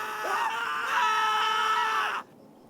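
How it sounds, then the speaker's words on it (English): Two overlapping high, strained screams, distant and echoing, ring out together for about two seconds, then cut off abruptly, leaving near silence. "No, not one scream, but two screams, now echoing somewhere far, far away"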